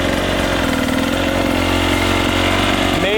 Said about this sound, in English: Get up to the point, clutch in, reduce throttle just a little,